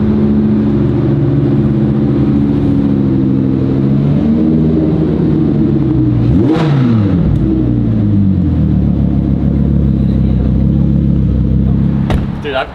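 An Audi R8 engine runs loudly and up close, a steady heavy rumble with a rising and falling rev sweep in the middle, while people talk faintly beneath it.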